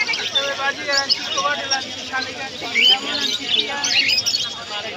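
Many small caged birds chirp and tweet busily together at a bird market in Meradiya, bright calls overlapping continuously, with faint murmur of people in the background.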